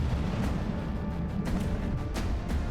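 Battleship cannons firing in the From the Depths naval combat game, a dense continuous barrage of booming artillery shots with a few sharper blasts standing out, loud and sustained throughout.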